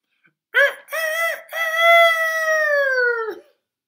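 A voice imitates a rooster's crow, one long drawn-out call preceded by two short bursts, clear and close against silence.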